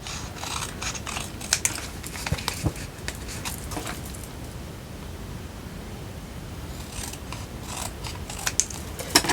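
Scissors snip close by, trimming paper bee tags for a craft project, with quick clusters of crisp cuts near the start and again near the end over a faint background hiss.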